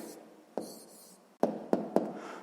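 A pen writing an answer in a sixth-grade math exercise: a few short scratchy strokes, close and fairly quiet, with light tapping accents and no talking.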